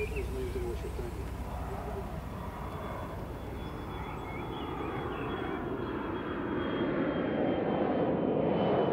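A large airplane takes off with a continuous, heavy engine roar that builds steadily louder toward the end, filling the whole span.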